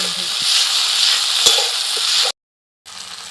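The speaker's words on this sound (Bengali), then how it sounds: "টমেটো আর আদার কাঁচা গন্ধটা চলে যাওয়া পর্যন্ত একটু নেড়ে চেড়ে নিতে হবে।" Tomato and ginger frying in a pan while being stirred, a steady close sizzle with occasional scraping taps of a spoon, briefly cut to silence before the sizzling resumes.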